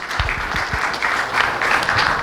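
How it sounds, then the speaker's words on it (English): Brief burst of applause for a presenter at a talk on Thai taxation for foreigners, dense clapping from a room of listeners, fairly loud and steady. "Huge round of applause for Thomas."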